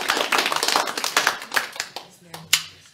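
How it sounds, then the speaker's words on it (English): Scattered audience clapping at an Amazon workplace talk in Toronto, a loose irregular patter of claps that thins out and ends with a few isolated louder claps. "Can we clap? Can we clap?"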